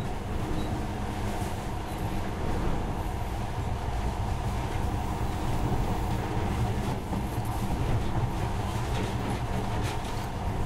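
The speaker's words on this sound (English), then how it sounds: "In the past, trains were ordinary things. But now, this monorail seems magic, doesn't it?" A monorail train ride in the video game Metro: Last Light gives off a continuous rumbling rail clatter with steady low-frequency drive noise and no speech.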